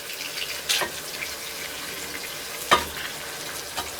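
Garlic, tomato paste and spices frying in the bottom of a cooking pot for cuttlefish stifado, a steady low sizzle with a couple of sharp scraping stirs.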